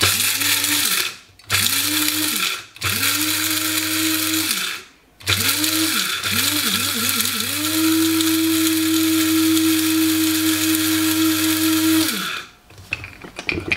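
An electric grinder whirs through spices and garlic granules in several bursts: short pulses separated by brief pauses, then one long sustained loud grind before it winds down, close and alone.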